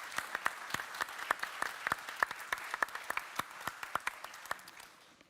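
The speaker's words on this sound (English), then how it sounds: "I think it deserves a round of applause." A small audience claps at a crypto conference panel, scattered distinct hand claps at an irregular rhythm, moderately close, tapering off at the end with no talk.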